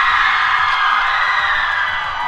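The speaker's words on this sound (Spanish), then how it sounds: "están gritando por los casters" A crowd at a Twitch Rivals live esports event cheers and shouts, a dense continuous roar filling the room without pause.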